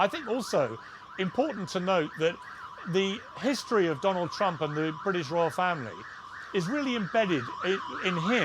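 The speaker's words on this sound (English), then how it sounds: "Apologies for the sirens going off behind me." Emergency vehicle sirens wail continuously in the street behind someone talking at length, their rising and falling tone running under his speech.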